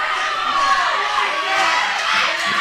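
A wrestling crowd at a ProSouth Wrestling event cheers and shouts for wrestler Az, a steady wash of distant voices while a commentator talks over it.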